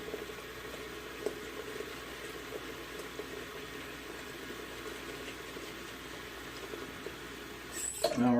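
Tap water runs steadily into a bathroom sink bowl with soap added, a continuous moderate splashing hiss that holds level throughout, then briefly rises near the end.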